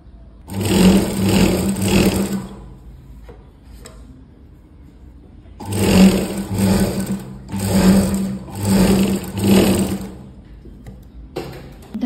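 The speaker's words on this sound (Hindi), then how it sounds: "यहाँ पे हम धार स्टिच लगाएंगे, फिर पॉइंट की सिलाई लगा देंगे।" Sewing machine stitching blouse fabric, with a close, loud rapid mechanical chatter in two runs: one short run, a pause with small clicks, then a longer run broken into several bursts.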